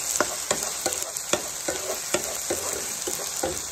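Sliced onion and curry leaves fry in hot oil in a pan while being stirred, a steady close sizzle punctuated by repeated scraping strokes about twice a second.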